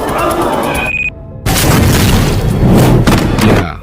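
A bomb strapped to a man's body detonates in the Korean drama Vincenzo: a loud, booming blast follows a brief hush, with heavy rumbling roar that lingers for several seconds before tapering off.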